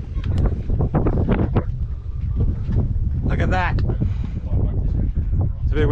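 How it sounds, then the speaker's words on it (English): Gusty coastal wind buffeting the microphone at Kalbarri's Lucky Bay, loud low rumbling bursts throughout, with a person talking briefly over it. "It's a bit windy"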